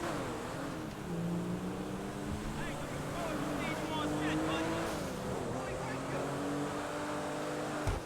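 Car engine in GTA 5 Online, one of the HSW vehicles, giving a rich, full, steady drone with rising and falling revs throughout, close and continuous.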